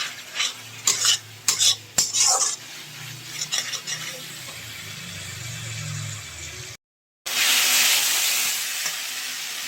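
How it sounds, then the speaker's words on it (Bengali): Spice masala with salt, turmeric, Kashmiri chili and cumin powder sizzles in oil in a pan while a spoon repeatedly scrapes and clinks against the metal, then the stirring fades to a steady frying hiss. "এই দিয়ে আমি ভালো করে মশলাটা এখন কষিয়ে নিচ্ছি।"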